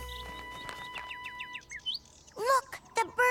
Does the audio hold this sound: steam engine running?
no